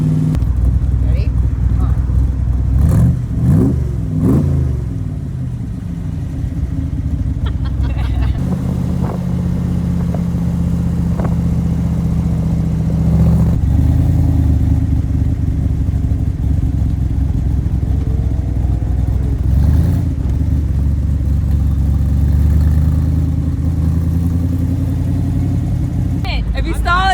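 A Superformance Shelby Cobra MKIII engine idling and revving at Laguna Seca, loud and close with rising and falling revs, while people talk over it at times.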